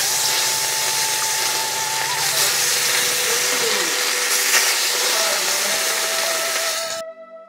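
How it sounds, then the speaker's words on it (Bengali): Fish fries in hot oil in a pan with a loud, continuous close hiss and crackle that holds steady, then cuts off abruptly. "আর কিছুটা মাছ আছে, আমি ভেজে নিচ্ছি।"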